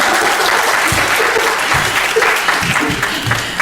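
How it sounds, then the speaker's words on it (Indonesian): An indoor audience at a network and computer workshop bursts into steady, loud applause, dense clapping sustained throughout with a few louder claps standing out near the end. "Tepuk tangan dulu dong."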